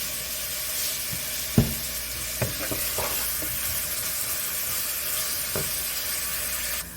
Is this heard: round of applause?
no